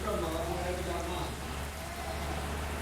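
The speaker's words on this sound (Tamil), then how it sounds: "திடீர்னு இந்த மழை எங்கே இருந்தால் வருது." Steady rain falls in a bus simulator game, a constant hiss running throughout, with someone talking over it at the start.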